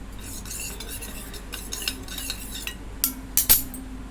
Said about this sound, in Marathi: आता हे पाणी ओतून मिक्स करून घेते